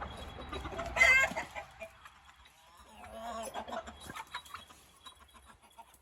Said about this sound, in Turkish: La tavuk bak